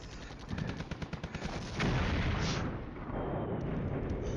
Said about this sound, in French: L'artillerie américaine nous fait toujours mal, elle rend bien les coups. Les mortiers continuent à tomber au centre.